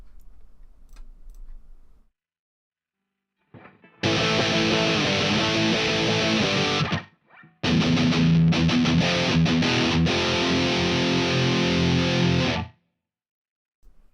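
A distorted electric rhythm guitar played through a Line 6 Spider amp for a Final Fantasy battle theme metal medley, with loud chugging chords in two bursts separated by a short gap.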